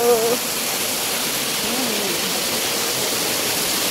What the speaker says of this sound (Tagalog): let's go to the falls